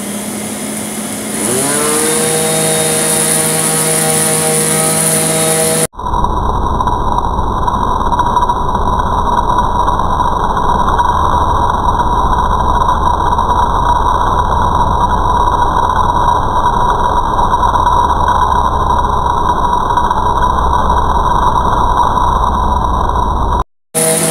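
A 1997 D4C SE vacuum cleaner with a PE beater-bar nozzle starts up with a rising whine, then runs loud and steady with a constant high-pitched motor drone, cutting off at the end.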